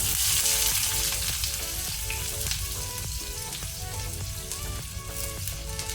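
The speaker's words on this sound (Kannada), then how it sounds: "ಈರುಳ್ಳಿ ಗೋಲ್ಡನ್ ಬ್ರೌನ್ ಬರೋ ತನಕ ಫ್ರೈ ಮಾಡ್ಕೊಳ್ಳುವ." Half an onion fries in plenty of hot cooking oil in a home kitchen, making a steady, close sizzle and crackle that runs throughout with nobody talking.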